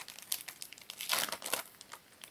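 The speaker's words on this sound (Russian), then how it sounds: "Так, давайте этот пакетик откроем." Small sticker packet being torn open by hand, its thin wrapper crinkling and crackling in quick irregular bursts, close and fairly quiet, with no talk.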